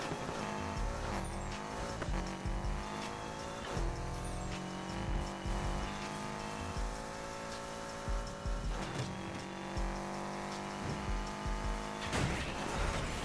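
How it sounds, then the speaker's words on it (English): A Subaru Impreza in the Need for Speed Heat video game runs with a continuous engine drone, shifting revs and bursts of tire squeal and skidding, steady and moderately loud throughout without speech. "I just love how this damn car sound,"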